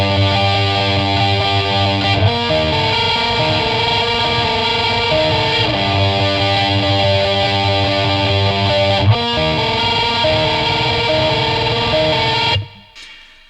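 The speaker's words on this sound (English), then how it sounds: "we've got a blast beat section with two chords that sound a bit like this" Heavily distorted electric guitar sustaining two alternating chords over a blast beat section of MGLA's black metal track Age of Excuse II, dense and loud throughout before cutting off abruptly at the end.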